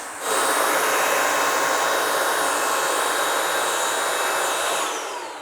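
A Bissell mopping vacuum cleaner on suction mode roars loudly and steadily with a broad, hissing whoosh, starting abruptly and tapering off near the end.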